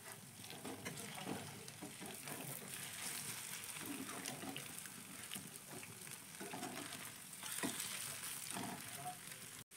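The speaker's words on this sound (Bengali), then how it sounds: "এবার এক পিঠ একটু ভাজা হলে আমি উল্টে দেব।" Snacks frying in hot oil in a pan, a steady close sizzle running throughout with occasional scraping and clinks as the pieces are turned over.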